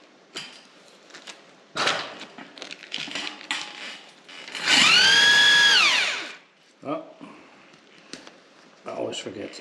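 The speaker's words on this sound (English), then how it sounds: "Let's start drilling." A power drill drilling aerated concrete internal walls in a house under construction whirs loudly for about two seconds, rising then winding down, with clicks, clatter and brief talk around it.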